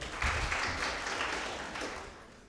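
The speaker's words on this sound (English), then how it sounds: "a round of applause" Brief, faint applause from an audience at a school debate competition after scores are announced, a short burst of clapping that fades away.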